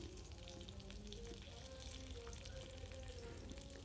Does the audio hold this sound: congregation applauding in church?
no